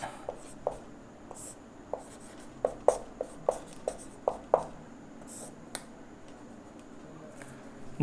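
Chalk or a pen writes on a board in a quiet room, making a series of short, crisp taps and scratches with irregular spacing and a few faint strokes between.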